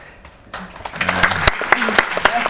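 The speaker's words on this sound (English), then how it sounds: "Yes, I think that deserves a round of applause." A small group of people claps together, the applause swelling after a quiet start and continuing as close, lively, uneven patter to the end.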